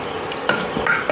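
Dry moong and chana dal stirred in a warm pot, a short run of scraping and clinking strokes over a soft sizzle, close and fairly quiet.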